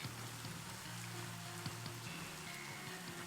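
Steady rain hiss during a Pokemon Scarlet/Violet VGC battle, continuous and even throughout, layered under tonal in-game music.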